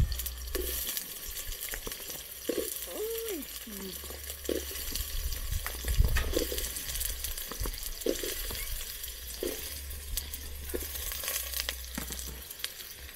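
Onions and potatoes frying in a pot for fish curry in an African village, with a continuous sizzle under intermittent stirring and scraping, plus some clatter and outdoor background noise.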